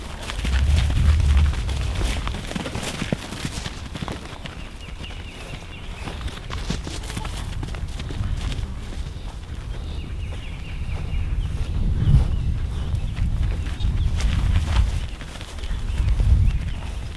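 A heifer runs on a farm, her hooves thudding irregularly on the ground amid rustling and wind noise, moderately near and fairly loud, with heavier thumps toward the end.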